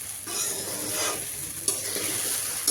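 Sabudana khichdi stirred in a kadhai, a steady scraping and rustling of the spoon against the pan over a soft sizzle, close and continuous with a couple of sharper clinks.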